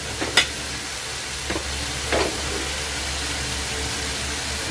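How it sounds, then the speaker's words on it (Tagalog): A banana heart and bihon noodle stew is stirred in a pan, with a few quick scraping strokes near the start over a steady low sizzle and hiss, close by and without speech. "Haluin ko lang muna to and then tatakpan natin."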